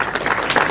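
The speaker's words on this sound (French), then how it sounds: "Il mérite également nos applaudissements." Crowd applause honouring coach Malik Daf and his staff after the Africa Cup of Nations, at a ceremony where President Macky presents bonuses to the players; a brief burst of dense clapping, steady and fairly loud.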